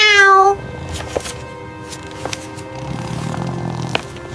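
A cat gives one clear, close meow at the very start, then softer background noises follow without further distinct calls.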